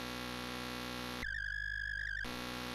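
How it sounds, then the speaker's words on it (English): A Ferry Island Four Seas modular wavetable oscillator drones steadily, a buzzy, harmonically rich tone that abruptly switches to a thinner, purer whistling wave for about a second before returning to the original timbre. "it's a basic wave table bank"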